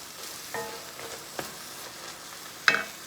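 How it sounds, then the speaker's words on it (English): Butter sizzles in a hot pan on high heat with a low steady hiss, broken by a few sharp crackling bursts and one louder pop near the end, close but fairly quiet. "we're going to go in with another tablespoon of butter"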